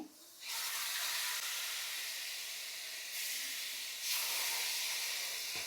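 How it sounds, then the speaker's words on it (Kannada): Milk hitting hot roasting semolina bursts into a loud, sustained sizzling hiss that carries on with slight surges for several seconds. "ಇವಾಗ ಹಾಲನ್ನ ಹಾಕ್ತಾಯಿದ್ದೀನಿ"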